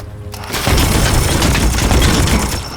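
Dense, loud gunfire in Warhammer 40,000: Chaos Gate - Daemonhunters, a sustained rattling barrage that erupts after a brief quiet moment and continues steadily to the end.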